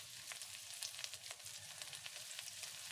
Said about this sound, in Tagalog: Kapag ganito na ang itsura at nagmantika na, gisahin na natin ang sibuyas at bawang.